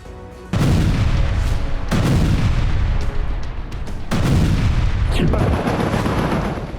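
Heavy gunfire and booming blasts in the Gaza war, loud and continuous, with repeated sharp onsets that roll into sustained crackling rumble.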